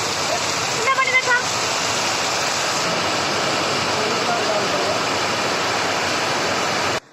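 Heavy monsoon rain pours in a steady, dense roar that fills the whole scene without pause, loud and constant, with brief faint tones near the start.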